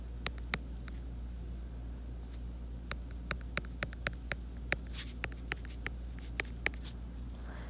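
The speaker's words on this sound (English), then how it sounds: "now with B, I'm going to write it down here" Hand-writing precalculus notes with a pen, heard as faint, irregular scratchy strokes and taps over a low steady hum in a quiet room.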